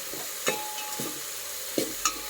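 Spices fry until brown for mango sambar, a soft steady sizzle in a pan broken by a few light spoon taps and stirring scrapes, close and fairly quiet with no talk.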